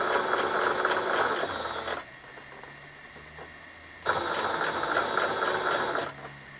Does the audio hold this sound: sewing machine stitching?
yes